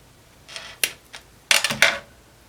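Scissors snipping through a strip of foam tape while making a Christmas wreath card, a few short crisp cuts close by, with light handling noise between them and no talking.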